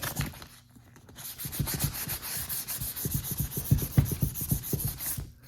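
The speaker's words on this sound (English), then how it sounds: "And then you're going to wet sand this area once it's dry." Wet sanding with sandpaper on a leather car-seat bolster after applying air-dry filler: a steady run of rhythmic abrasive rubbing strokes, close and fairly loud, with a brief pause near the start and no talking.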